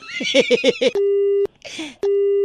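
Telephone busy tone after a call is hung up: a steady electronic tone sounds in two long pulses separated by a short gap, following a brief burst of voice.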